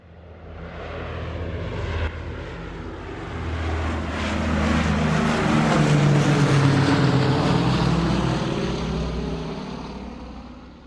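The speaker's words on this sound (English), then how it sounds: "Now heading back onto the plane from Tasmania heading to Melbourne." Steady drone of an airliner in flight from Tasmania to Melbourne, heard from inside the cabin as a loud, even engine roar that swells gently midway and eases toward the end, with no voices.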